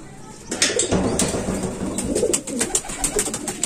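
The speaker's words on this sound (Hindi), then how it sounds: "ये सारे कबूतर मैंने बंद कर दिए" Many pigeons cooing in a loft, a dense, continuous murmur of close coos with occasional wing flutters and light knocks.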